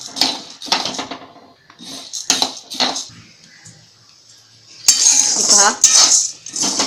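Chana dal being stirred and roasted dry in a pan for Maharashtrian chakli bhajani, a metal spatula scraping and clattering loudly against the pan in irregular bursts, with a brief voice speaking partway through.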